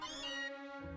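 A human voice imitates the meow of Meowth, the Pokemon cat: one drawn-out, nasal meow about a second long, close and clear, with a faint lower sound at the very end.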